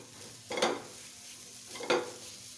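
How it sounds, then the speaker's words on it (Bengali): Noodles mixed with Maggi masala stirred in a pan: two distinct scraping strokes of a utensil against the pan over a soft background hiss, close and fairly loud, no voices. "এখন ভালোভাবে মিশিয়ে নেব।"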